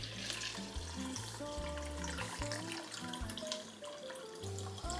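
Lychee-infused liquid is poured out of a container during cocktail clarification, a continuous close splashing trickle that runs the whole time over low background music, with no talking.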